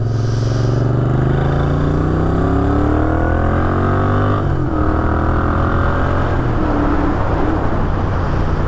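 A Moto Guzzi V7 II Racer motorcycle engine drones steadily up close while riding on the road, its pitch rising as it accelerates, then dipping and picking up again with a rough, buzzing tone.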